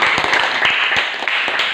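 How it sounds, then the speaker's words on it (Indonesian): Students in a classroom clap together in a brief burst, scattered claps landing unevenly over a short stretch, fairly close and loud. "berikan tepuk tangan"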